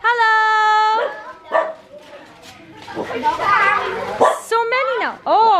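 Dog barking and whimpering on a street in Cambodia, short yelps and bow-wows close by, mixed with excited talk from several people.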